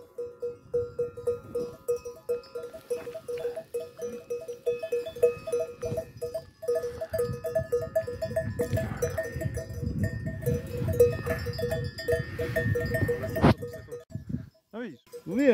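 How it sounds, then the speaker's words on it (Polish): A large flock of sheep passes on a mountain road near Kalin Dam in Bulgaria, bleating and clanking bells in a busy, continuous jumble, with people talking nearby throughout. "Przynajmniej owce widać. Wiesz co, i to takie niemałe stado idzie."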